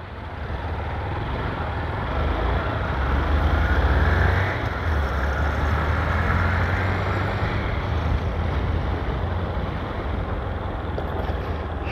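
A motorcycle engine rumbles steadily on the road in Parnaíba, Piauí, Brazil, its low drone mixed with constant wind buffeting the microphone.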